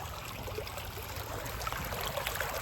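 Water in a lush creek lined with willow trees trickles and burbles steadily up close, a continuous babbling flow with no talk over it.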